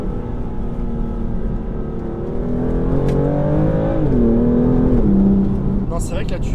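A BMW M2 drives along, its engine a steady droning hum with pitch that rises and shifts as it accelerates, heard from inside the car at a loud, continuous level.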